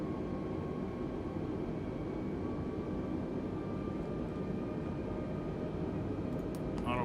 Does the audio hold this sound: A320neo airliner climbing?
yes